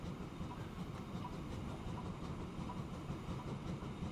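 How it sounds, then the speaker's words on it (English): Freight train from the Transport Fever 2 game rolls along in a steady, continuous low rumble with faint rhythmic rail clatter, moderately quiet and without voices. "So it's not a very long one, but we have almost a full train."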